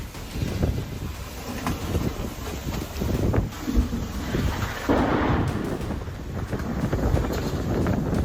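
A fierce storm with strong winds sweeps across rural Texas. Heavy wind buffets the microphone in a constant loud roar, with deep rumbling surges that fit distant thunder.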